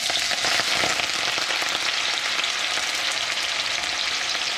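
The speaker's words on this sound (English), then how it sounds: "We're starting off with the onions as usual. Release some flavors there into our oil." Onions hitting hot oil for a Guyanese shrimp curry, a loud, dense, continuous sizzle close up that stays strong throughout.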